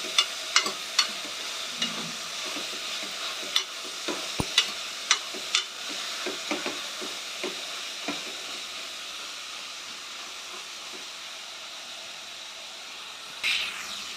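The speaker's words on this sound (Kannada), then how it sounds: "ಎರಡು ನಿಮಿಷ ಒಗ್ಗರಣೆಯಲ್ಲಿ ಎಣ್ಣೆಲಿ ಹುರ್ಕೊಂಡ್ಮೇಲೆ" Spices and lentils crackling in hot tempering oil for a Kannada-style broad bean masala curry, with sharp pops and spits scattered over a continuous sizzle that gradually settles into an even hiss, no talking.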